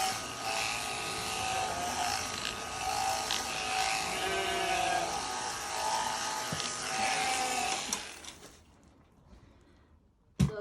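Electric shears buzz steadily while a sheep is shorn with long blows along its side, a close, continuous motorized whine with faint bleats and handling noise, stopping near the end.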